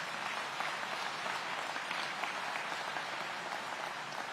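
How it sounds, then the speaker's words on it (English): An audience at a city of Aurora public safety and engagement address breaks into dense, sustained applause, an even wash of many hands clapping with no talk over it. "That deserves a round of applause"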